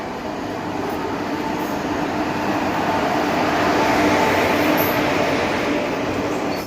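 A passenger train pulls into a station in India on an exposure trip from Odisha to Kanchipuram, its steady roar and rail rumble loud and sustained before cutting off abruptly.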